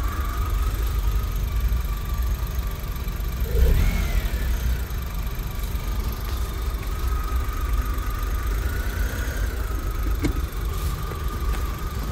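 A 2018 gas-powered Lada car engine idles steadily up close, a continuous low rumble with an even hum and no talking.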